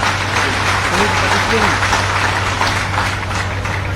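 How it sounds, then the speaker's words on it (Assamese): An audience at Kanai College applauds to welcome mock parliament participants at an event with a Union minister. The clapping is a dense, steady roar throughout, with a low electrical hum underneath and faint voices mixed in. "সকলোৱে হাত তালি মাৰি তেখেতসকলক স্বাগতম জনায়"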